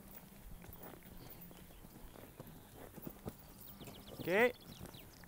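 Horse hooves strike the ground in a steady walking clip-clop during a riding lesson, faint and partly masked by background noise, with a brief louder burst near the end.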